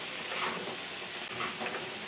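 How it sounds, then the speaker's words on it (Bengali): Vegetables being stirred in a pan with cumin powder, giving a steady, close sizzling hiss that holds evenly throughout with no voices. "আবার একটু ভালো করে নাড়াচাড়া করে নেব।"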